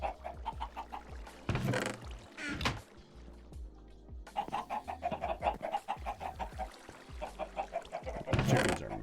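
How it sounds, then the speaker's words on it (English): Chickens cluck in a video game, a run of repeated mid-pitched clucks and squawks from the flock at moderate loudness, broken by a few sharper louder bursts, with no talking. "Chickens are mad."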